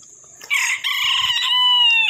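A bantam rooster crows nearby, a short, bright, high-pitched call with a strained, wavering finish.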